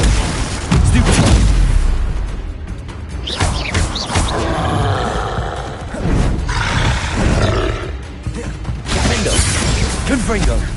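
A Confringo spell explosion in Hogwarts Legacy sets off heavy booming blasts with roaring, crackling debris, several loud bursts spread across the clip amid a dense game battle din.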